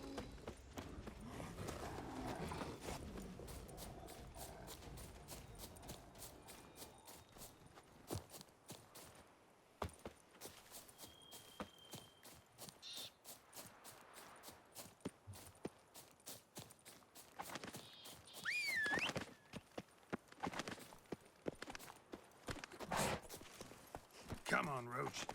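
Geralt's horse Roach hooves clip-clopping steadily through The Witcher 3: Blood & Wine, a rhythmic galloping gait under game music and ambience with occasional talk over it.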